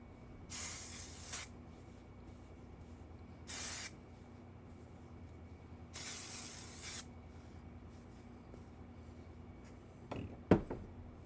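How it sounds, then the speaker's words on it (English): Hair spray hisses from an aerosol can in three short, quiet bursts with pauses between them, followed by a small clatter as the can is handled. "to fix my hair a little bit, I'm just gonna have a little spray"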